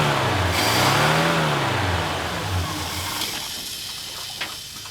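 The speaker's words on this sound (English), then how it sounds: "My job is to hang out here with my foot on the gas just a little bit to keep it from dying." A 1966 Ford six-cylinder engine is revved lightly in a rising and falling swell to keep it from stalling, close and fairly loud, easing back toward a rough idle.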